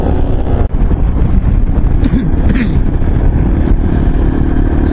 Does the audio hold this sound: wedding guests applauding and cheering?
no